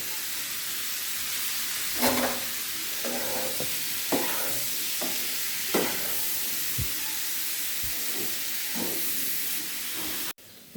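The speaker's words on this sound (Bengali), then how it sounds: "উস্তা এইভাবে কম জালে আস্তে আস্তে ভেজে নিতে। ভাজা আমার প্রায় শেষ।" Bitter gourd (ustha) frying slowly in a pan over low heat gives a soft, steady sizzle with occasional stirring scrapes, close and unbroken before cutting off abruptly at the end.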